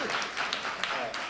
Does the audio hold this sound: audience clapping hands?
yes